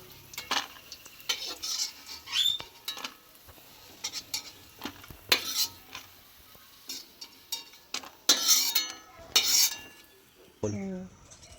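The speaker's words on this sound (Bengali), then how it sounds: "উচ্ছেটা আমার লাল লাল করে ভাজা হয়ে গেছে। এবার উচ্ছেগুলোকে আমি তুলে নেব।" Fried bitter gourd is lifted out of a wok, with a spatula scraping and clinking repeatedly against the metal over a soft background sizzle, close and irregular, with no voices.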